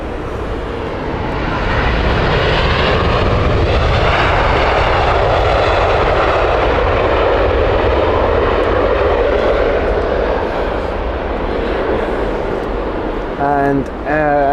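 Jet engines of a Cathay Pacific Airbus A350 at Heathrow Airport build into a loud, broad roar that holds for several seconds and then eases, with a voice talking briefly near the end.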